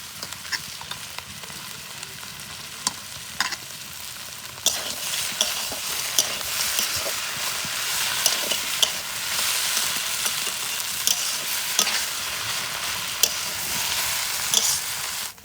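Potatoes and cauliflower sauté in a spiced masala as fried peanuts, carrot and beet go in for a singara filling, giving a continuous close sizzle with frequent stirring scrapes and spoon taps and no voices.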